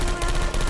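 Portal 2 turret firing in the video game, a steady, dense burst of rapid gunfire that fills the whole moment without a break, close and loud, with no talking.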